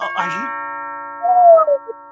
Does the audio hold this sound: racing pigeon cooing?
no